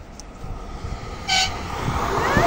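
A passing train's horn blasts once, loud and fairly close, over steady outdoor rumble and rail noise, with no talk.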